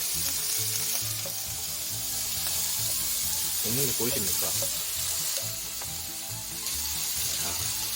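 Hokkaido butter sizzling in a frying pan, a steady close crackle and hiss running the whole time, with a brief spoken remark partway through.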